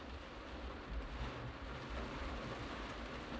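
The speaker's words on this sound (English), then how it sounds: "It's raining right now." Steady rain falls outdoors as a soft, continuous broadband hiss with low rumble underneath, even and unbroken throughout, with no voices.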